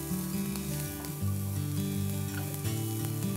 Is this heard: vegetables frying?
yes